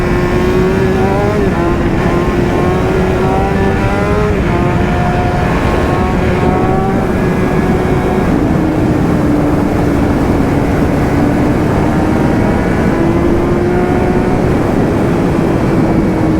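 A BMW S1000RR superbike engine screams at high, steady revs through a long wheelie, its rising and falling pitch loud and continuous throughout with no talking.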